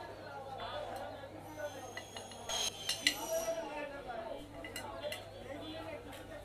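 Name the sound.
mixing crispy fried potato chips with spice powder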